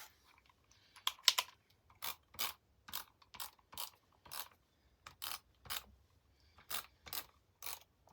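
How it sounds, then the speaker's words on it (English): A tape runner dispensing adhesive in short strokes onto photo mats for a scrapbook layout, giving a series of about a dozen soft mechanical clicking rasps in an irregular rhythm, close and quiet, with no talking. "I'm going to use the tape runner for that."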